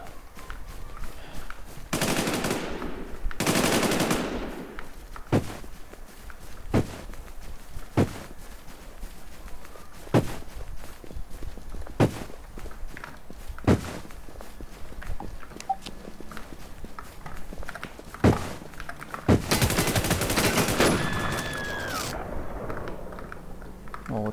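Machine gun fire and footsteps in Call of Duty Warzone: scattered sharp shots and short bursts with louder clusters, over a steady background and quick repeated steps, and no clear talking.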